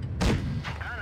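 A heavy tank cannon fires once in World of Tanks Blitz, the Emil 1951, a sudden loud boom with a booming tail, followed by a brief electronic game tone.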